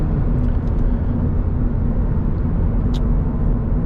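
Toyota GR86 with a six-speed automatic accelerating past a cement truck, a steady, loud, low engine and road rumble with no voices.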